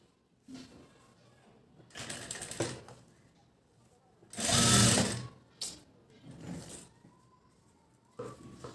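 A sewing machine stitches along the edge of a blouse in several short runs of rapid mechanical whirring, with quiet pauses between bursts, close up and without talk.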